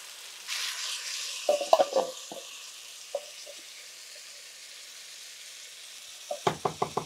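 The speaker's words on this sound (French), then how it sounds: "Donc je verse ma boîte de concassées de tomates." Canned crushed tomatoes pour into a pan of sizzling chicken breast, a bright frying hiss followed by wet splattering and sloshing, then quieter bubbling and a few stirring scrapes at the end.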